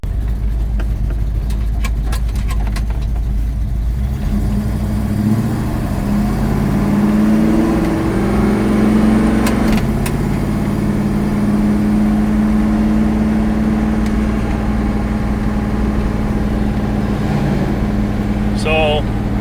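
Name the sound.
1970 Plymouth Duster engine revving on a drive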